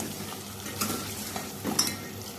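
Cooked malai chicken scooped out of a pan: soft sizzle underneath a few close scraping and clinking strokes of a utensil against the metal, brief and without talk.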